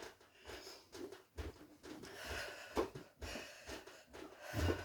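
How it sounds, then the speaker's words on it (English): Heavy, rhythmic breathing during a nonstop cardio workout of side-to-side skipping, each breath a rough wheezy rush repeating about once a second, close and fairly quiet. "And yes, I'm breathing."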